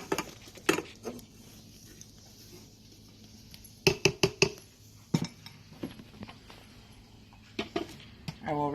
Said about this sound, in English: so I will remove the lid and I will add our flour and butter mixture to it.